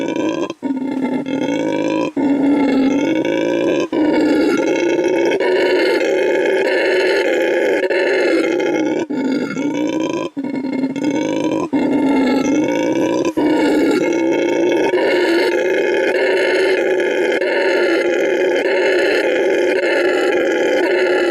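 A group of rainforest howler monkeys howling together in a continuous, loud chorus of deep, droning roars that rise and fall with brief breaks, no speech.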